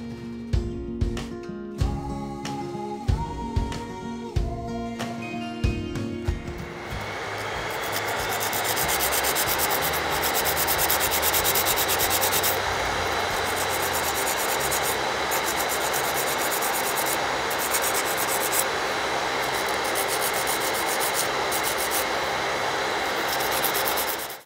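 Poly gel nails being filed with an electric nail file while a dust collector runs, a steady broad whooshing hiss with abrasive rubbing that starts after a few seconds of tapping sounds and stays loud to the end.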